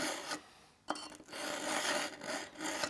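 A knife blade is drawn repeatedly across a Pocket Pal knife sharpener, producing quiet rasping scrapes in a loose rhythm of several strokes, close and dry with no talk.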